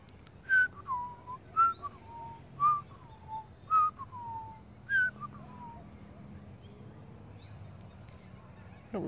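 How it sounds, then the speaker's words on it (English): A magpie calls at sunrise in mid-June, giving a series of about seven short, clear, falling whistled notes at an even pace from moderate distance over a quiet background, with no talking. "I think it's the main magpie that's calling here."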